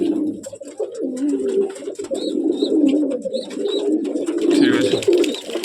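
Breeding pairs of pigeons in a coop coo in low, rolling repeated calls close by, with a few higher chirps and soft rustling mixed in.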